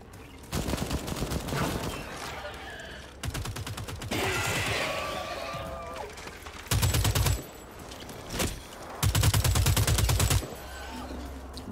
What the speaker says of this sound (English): At least this SMG is a lot nicer to use than the pistol.